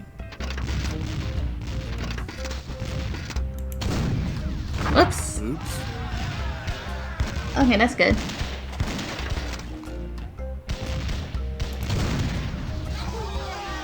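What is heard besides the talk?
cannon firing in The Curse of Monkey Island video game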